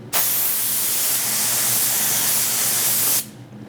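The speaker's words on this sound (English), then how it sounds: "as soon as I spray the activator, the film's going to turn from a solid to a liquid" A steady, loud aerosol spray of activator onto vinyl wrap film hisses continuously for about three seconds, starting and stopping abruptly, close by with no talking.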